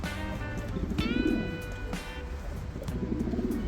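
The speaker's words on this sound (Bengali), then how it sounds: "এই কবুতরগুলো বেশ দামি কবুতর" Large, long-necked gold-neck Sharabi pigeons coo in a loft, with a few rising harmonic calls standing out over a steady background hum.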